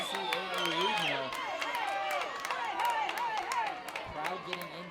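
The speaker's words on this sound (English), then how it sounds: "Crowd getting into it." Crowd cheering and clapping at a college NCAA regional softball game in the bottom of the seventh inning, a steady roar of cheers and scattered claps under a person talking.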